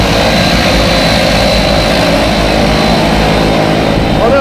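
A propeller airplane engine runs loud and close before a skydive, a steady droning roar with a throbbing low rumble that continues unbroken.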